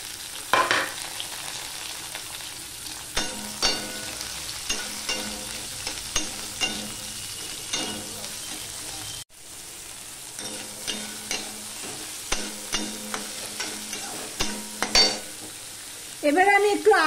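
Chopped onion and green chilli sizzle in hot oil with black cumin seeds, a steady close frying hiss broken by repeated stirring scrapes, with no talk.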